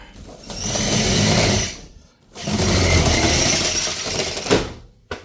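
A rollup door on a GI scope cabinet, freshly fitted with rails, runs down with a sustained rattling roll, stops briefly, then rolls back up with a similar clattering rumble ending in a knock.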